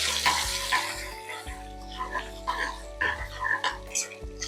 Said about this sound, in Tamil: வெங்காயம் எல்லாம் நல்லா இந்த மாதிரி நல்லா சுருள வதங்கிடணும்.